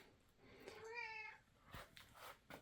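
Cat meowing once, a short rising-falling call close by, followed by faint rustling and soft knocks in a quiet room.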